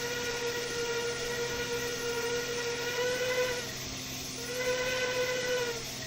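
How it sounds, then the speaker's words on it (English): A steam train whistle from a Minecraft mod sounds as a sustained, loud, harmonic tone, held for several seconds, briefly breaking off, then blown again, with a steady mechanical drone beneath. "and if we blow the horn,"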